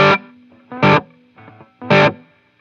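Electric guitar played through a Line 6 Catalyst 100 amp set to spring reverb: three loud, bright strummed chords with quieter picked notes between them, each chord ringing briefly before fading.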